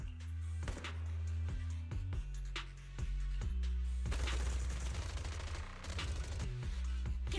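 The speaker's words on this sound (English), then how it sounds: "Gunfire?" Suppressive marching fire in the video game Zenless Zone Zero, a loud ongoing barrage of gunshots and heavy booms in rapid bursts, with deep low thuds under sharp cracks and no voices.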